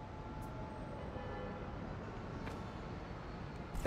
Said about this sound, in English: This train's gonna block that one.